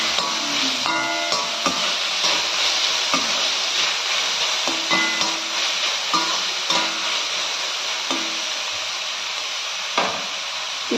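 Onions frying in oil in a pan, a steady close sizzle with scattered crackles and occasional light scrapes of a utensil stirring, no voices.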